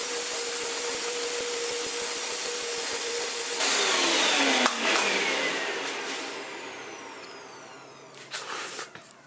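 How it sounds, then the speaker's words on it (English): A Hoover Power Scrub upholstery cleaner running in rinse mode while lifting ink from fabric, a steady loud motor whine that swells midway, then settles and shifts in pitch with some clatter near the end. "Just turn the knob to rinse and you rinse it."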